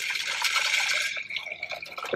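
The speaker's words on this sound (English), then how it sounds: "we're going to pour this into our cup of ice without spilling it in my lap." A drink is poured into a cup of ice, giving a steady liquid stream with crackling and clinking that trails off into a few drips. The pour is close and runs alone, with no talking.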